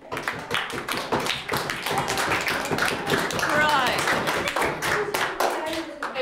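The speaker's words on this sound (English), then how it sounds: "I think that deserves a clap too." An audience claps in a room, a dense patter of hands with voices talking over it throughout.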